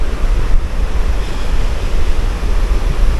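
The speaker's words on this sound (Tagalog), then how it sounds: "Andun yung waterfalls." Rushing water of Dunsulan Falls, a steady broadband roar that stays loud and unbroken throughout, with some wind buffeting mixed in.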